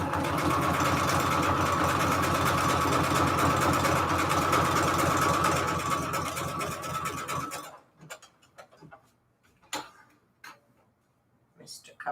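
A sewing machine runs in a rapid, steady stitching rattle for several seconds, then stops, leaving scattered quiet clicks and handling noises.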